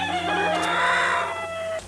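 Chickens cluck alongside a rooster's crow at a poultry farm, a steady nearby burst of fowl calls lasting about two seconds with no talking.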